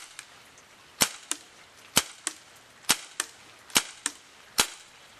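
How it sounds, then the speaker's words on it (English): A WinGun M702 airsoft revolver fires at a target about 68 feet away, giving nine sharp, snappy cracks in quick irregular pairs. The shots ring out close and alone, with no talking over them. "So we're going to be shooting at the blue target first."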